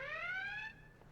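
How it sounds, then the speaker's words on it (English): A phone or clock alarm goes off with a bright, rising electronic tone that holds briefly and then cuts out, heard faintly in a quiet indoor room. "Oh, that was my alarm to set my other alarm."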